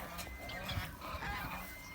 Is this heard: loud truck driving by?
no